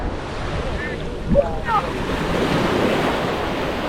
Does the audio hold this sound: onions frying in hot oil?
no